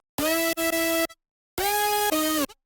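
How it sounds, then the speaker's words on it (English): A bright, buzzy melodic drum and bass synth lead plays two sustained phrases with a short gap between them. The tone is dry and unprocessed, with slight pitch bends and no voices. "Leads for the A part without effect sounds like this."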